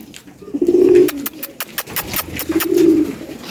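Pigeons coo in two low, rolling bursts separated by a stretch of rustling and faint chirps, close and fairly loud.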